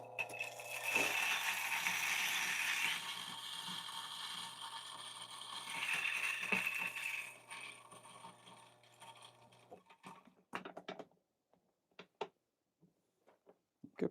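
Ascaso H64 coffee grinder running for several seconds with a steady whirring grind that cuts off, followed by scattered sharp clicks and taps nearby.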